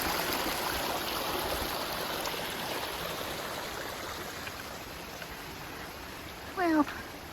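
A stream rushes steadily beside a forest hiking trail on the Appalachian Trail in North Carolina, a broad constant wash of water, with a short animal-like cry near the end.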